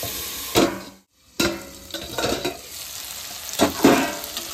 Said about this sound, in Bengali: ঢাকা চাপা দিয়ে ফুলকপিটাকে একটু ভালো করে একটু ভাজা ভাজা করে নেব।